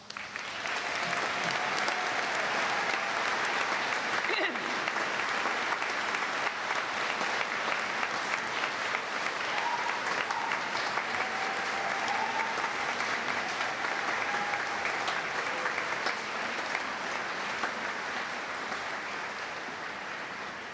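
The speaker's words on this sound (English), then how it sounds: "let's give our graduates a round of applause" Sustained, steady applause from a seated audience at a university convocation ceremony, loud and dense for about twenty seconds with no talking, tapering slightly at the end.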